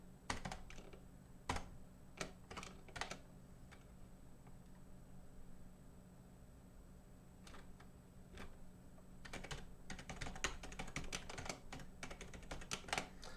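Computer keyboard keys clatter in quick irregular bursts, close and quiet, with a pause of a few seconds before a denser flurry of typing at the end.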